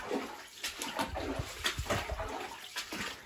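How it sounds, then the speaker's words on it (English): Water runs and splashes out through the portal of a large abandoned flooded mine in Nevada, a steady close trickle-and-slosh with small irregular splashes and no talk. "the water is indeed flowing out of the mine"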